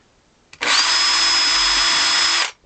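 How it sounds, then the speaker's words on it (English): A power drill whirs for about two seconds at a steady high pitch, drilling a hole in an accordion's bass side, starting and stopping abruptly, close up and alone. "just push down and then drill a hole as straight as I can in"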